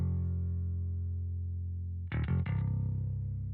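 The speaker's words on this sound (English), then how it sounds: "We're using this ample-based P guitar from Ample Sound, and we're playing the same melody as the synth bass." Ample Sound P bass guitar plugin doubling a synth bass melody: a loud, sustained low electronic bass tone with a brief plucked, buzzy note change partway through, no voices.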